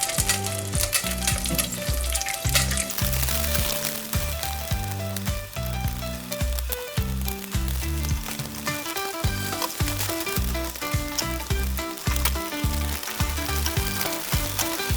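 An egg fries in butter in a stainless steel pot, giving a loud, dense, continuous sizzle and crackle close up, with background music playing throughout.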